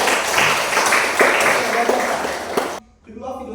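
Audience applause in a church learning session, dense clapping for nearly three seconds that cuts off, followed by a voice speaking.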